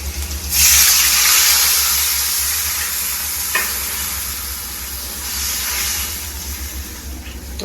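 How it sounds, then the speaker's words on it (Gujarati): Buttermilk for dhokli boils and steams in a pot, giving a loud, steady hiss and bubbling sizzle close by, swelling early and holding with small surges and a brief clink midway. "આપણી છાશ ઉકળી ગઈ છે."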